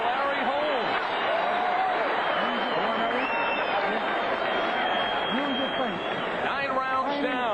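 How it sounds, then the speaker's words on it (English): A boxing arena crowd cheers for Larry Holmes in the ninth round of his fight against Ray Mercer, a sustained roar running beneath steady commentator talk. "And the crowd with a cheer, and it's going for Larry Holmes."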